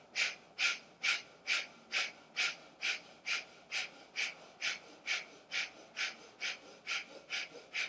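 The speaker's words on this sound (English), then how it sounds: "And we're going to come back to that fire breath." Fire breath in a yoga session: fast, rhythmic forceful exhales through the nose, about two per second, even and steady, close and clear with no talking.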